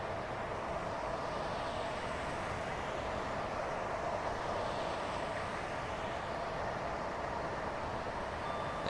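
A Class 455 electric train in Train Simulator Classic runs fast along the South West Mainline, giving a steady, dense rumbling roar that stays constant throughout, with no talk.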